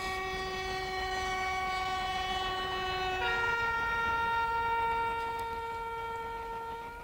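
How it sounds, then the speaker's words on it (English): A British Rail diesel locomotive sounds a long, loud horn blast whose tone drops partway through, then fades slowly with no speech. "The greatest of these has been the diesel locomotive."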